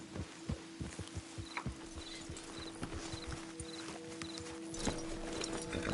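Horses' hooves clip-clopping in the video game Red Dead Redemption 2, a close, quick rhythmic run of hoofbeats over a low steady hum that thins out toward the end, with no talk.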